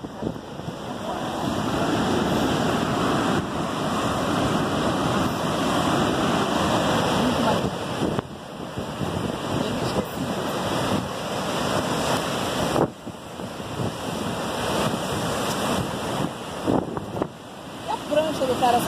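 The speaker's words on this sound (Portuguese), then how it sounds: "Ondas do Sul em Nazaré." Large ocean waves breaking at Nazaré, a steady loud roar of surf and wind noise across the whole stretch, with brief dips and swells in the wash.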